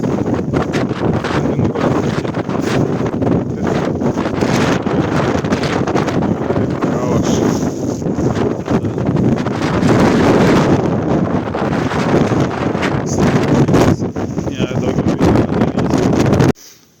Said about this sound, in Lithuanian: Vėjas toks stiprus buvo, kad vanduo tiesiai į veidą.